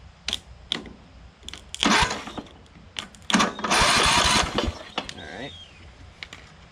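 The starter on a riding lawn mower that sat unused for years cranks in short bursts, giving close grinding whirs of a second or so separated by clicks and handling noises, with a voice murmuring in between.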